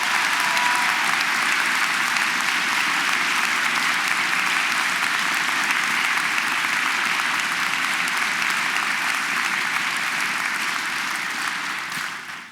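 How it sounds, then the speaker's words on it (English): A large audience at a college academic awards convocation applauds its students in a loud, dense, sustained wave of clapping that fades slightly at the very end. "Can we just clap for all of our students who are here today?"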